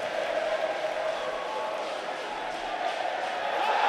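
A large, football-style crowd roars steadily at an Olympic men's light boxing final in Rio, a continuous far-off wash of cheering under a commentator's voice.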